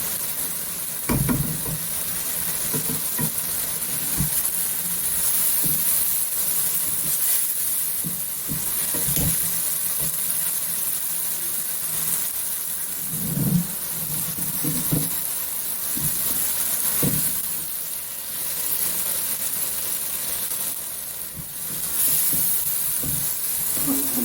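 Diced potatoes and bell peppers fry in a pan for a Pakistani aloo shimla mirch dish, giving a steady sizzling hiss with scattered clinks and scrapes of stirring, fairly quiet and with no talk.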